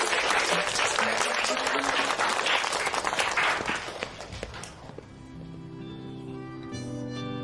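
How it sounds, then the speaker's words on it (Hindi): Loud, dense audience applause fills the first several seconds, then fades out as gentle tonal music takes over and carries on alone to the end. "एक बार जोरदार तालियां उसके लिए।"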